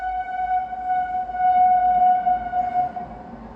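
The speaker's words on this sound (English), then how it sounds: "Let the train go" A train passes at a distance, its sustained horn holding a steady tone over a low rumbling background.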